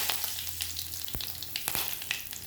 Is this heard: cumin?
yes